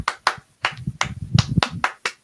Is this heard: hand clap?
yes